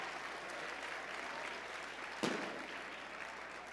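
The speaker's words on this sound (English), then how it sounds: "That's worthy of some applause." Audience applause at the Blue Ribbon Bash benefit event, a steady wash of many hands clapping that swells briefly near the end before continuing, fairly distant and soft.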